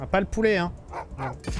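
A dog in the video game Wasteland 3 gives a few short barks and yips, mixed with someone speaking French over the game.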